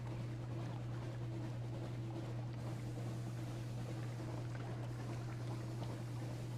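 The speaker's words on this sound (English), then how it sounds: "I'm just happy we've got an upgraded engine." A ship's upgraded engine in the game Sunless Sea drones steadily as a low hum beneath faint watery wash and wind, even and unbroken throughout.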